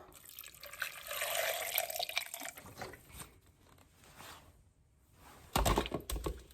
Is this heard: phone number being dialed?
no